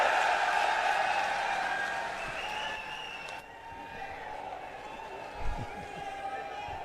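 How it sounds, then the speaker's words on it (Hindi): A large crowd at an Aam Aadmi Party rally in Punjab applauds with a broad, continuous wash of clapping and cheering that gradually fades, heard from some distance with murmuring in the background. "आप सभी की जोरदार तालियों के बीच में"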